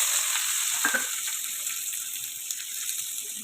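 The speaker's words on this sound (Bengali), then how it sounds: "পেঁয়াজগুলো একটু লাল লাল করে ভাজবো" Sliced onions with a bay leaf sizzle in hot oil in a pan for a home-style chicken curry, a steady hiss with a brief stirring clatter.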